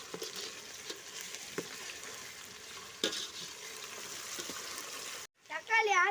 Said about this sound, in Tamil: வெங்காயம் வதக்குற வரைக்கும் காத்திருக்கலாம்.